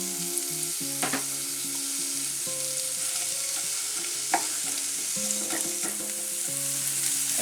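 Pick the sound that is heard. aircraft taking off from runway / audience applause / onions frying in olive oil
onions frying in olive oil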